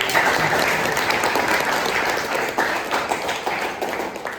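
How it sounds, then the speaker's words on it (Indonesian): Applause from a class of students, dense steady clapping filling the room throughout without a break, loud and close. "tepuk tangan dong buat semuanya"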